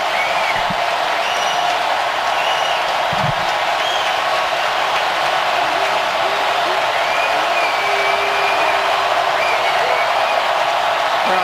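Steady roar of a packed football stadium crowd in New Orleans, Saints hosting the Vikings on third down and two, a dense loud wall of noise with scattered whistles and cheers throughout.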